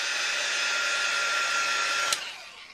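A heat tool blows steadily to dry ink on a Christmas craft tag, a close, even whirring hiss that clicks off near the end and fades out.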